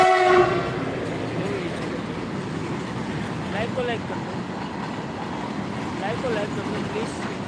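Train at a railway station about to depart, with a horn sounding at the start, then rumbling wagons and faint clicking of the rails.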